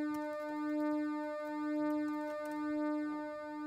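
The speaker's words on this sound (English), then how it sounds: "It's an oscillator called varsaw, which is a variable duty triangle wave / sawtooth wave." A SuperCollider VarSaw oscillator, a variable duty triangle and sawtooth wave detuned to 300 and 301 Hz, hums as a steady buzzy tone that slowly swells and fades about once per second, alone and moderately quiet.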